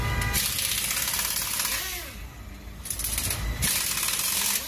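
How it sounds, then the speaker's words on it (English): A pneumatic impact wrench loosens car lug nuts during a brake pad change, giving loud rattling bursts with a brief quieter gap in the middle, close by. "Using the pneumatic tool to open or unscrew and thread all the six lug nuts."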